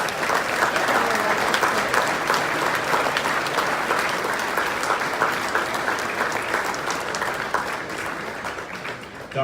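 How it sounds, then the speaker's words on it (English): A banquet audience in Aberdeen claps warmly and continuously, a thick, even wash of applause that eases off slightly toward the end. "Let's give them a big round of applause."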